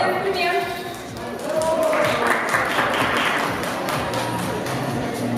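Audience applause at a show, steady clapping from a crowd that swells after a moment, with voices heard over it.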